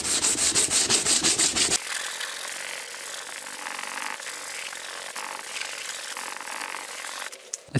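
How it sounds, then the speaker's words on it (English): Plastic car body panel sanded by hand with 180 grit sandpaper on a block, steady close scratchy rubbing strokes; a louder rhythmic burst of strokes opens, then continuous softer sanding follows. "we're going to use our 180 grit sandpaper and a sanding block as well, and we're just going to sand down the area"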